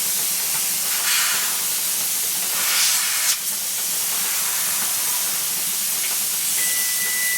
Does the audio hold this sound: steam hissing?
yes